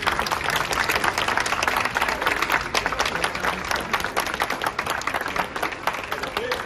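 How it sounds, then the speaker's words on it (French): Applause from an audience after a Kyokushin karate demonstration at a club forum, steady dense clapping that holds for several seconds at a fairly loud, even level. "Et merci de les applaudir."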